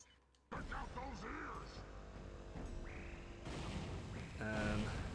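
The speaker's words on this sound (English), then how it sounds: "This one is upgrades as a powerful sticky bomb to each round that detonates seconds after it makes contact." Sticky bomb rounds from a shotgun in the Ratchet and Clank video game, with blasts and mechanical clatter that grow louder toward the end while a voice talks over the action.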